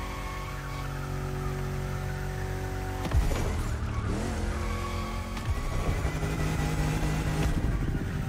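A car drifts in The Crew Motorfest racing game, its engine droning steadily while tires squeal through long slides. The sound is loud and continuous, with a rougher scrape partway through.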